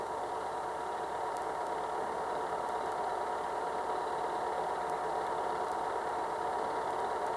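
Steady drone of a vehicle engine and road rumble while driving over farmland through grape and almond orchards, constant and unbroken with no voices.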